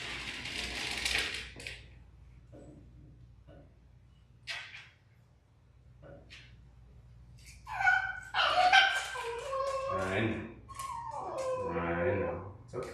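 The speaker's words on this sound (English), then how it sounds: "if that hurts your soul to watch a dog cry and complain, you might not want to watch this" A Shih Tzu whimpers and cries during a nail trim at home, with scattered yips at first, then louder rising whines and howl-like complaints near the end, close by.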